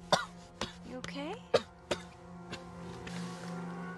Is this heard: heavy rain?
no